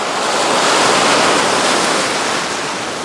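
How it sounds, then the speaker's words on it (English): Loud, steady ocean surf breaking on an Atlantic beach, a continuous broadband wash of waves with some wind rumble, no voices. "The ocean!"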